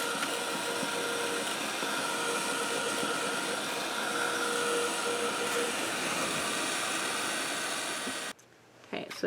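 A heat gun blows a steady, loud, broadband whir over wet paint on a gessoed surface, holding an even level for about eight seconds before cutting off abruptly.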